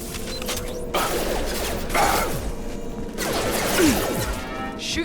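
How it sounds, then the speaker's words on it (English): Fenris mechs on the move in Mass Effect 2: a run of clanking, ratcheting mechanical movements with metallic creaks and a few heavier crashing bursts, close and fairly loud, with no voices. "Hear that? Sounds like Fenris mechs."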